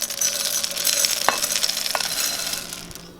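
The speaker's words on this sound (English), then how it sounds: "you're gonna add your chocolate chips, and that's going to be 3 cups of your white chocolate" Three cups of white chocolate chips are poured into a mixing bowl, making a loose, continuous rattling patter with a couple of sharper clicks partway through, close by and without any talking.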